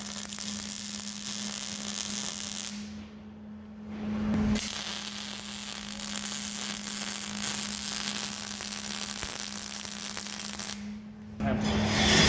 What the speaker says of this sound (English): Just tack this together, then I'll weld it up.